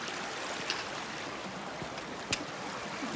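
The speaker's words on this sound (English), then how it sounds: "Water crossing number 7. A lot of water." A stream running across a hiking-trail water crossing on the Bright Angel Trail in the Grand Canyon, a steady close rushing and trickling wash with a couple of small splashes, no voices.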